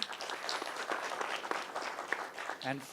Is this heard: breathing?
no